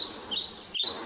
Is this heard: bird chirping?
yes